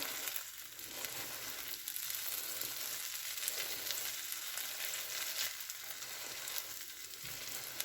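Toast sandwich pressing in a frying pan gives off a steady, close sizzle and crackle with faint periodic scraping, continuous throughout with no talking.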